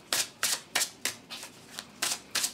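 Tarot cards being shuffled for a monthly reading, in eight crisp riffling bursts at a steady rhythm, close and fairly loud with short pauses between, no voices.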